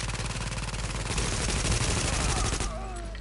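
Rapid automatic gunfire from The Division rattles in a dense, loud burst lasting a couple of seconds, then cuts off, leaving a trailing ringing tone and faint game ambience.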